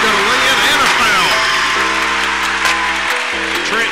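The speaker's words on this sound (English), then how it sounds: "as you can hear the crowd going wild" Crowd at a high school basketball game roaring and cheering steadily, a loud continuous wash of voices with an announcer talking over it.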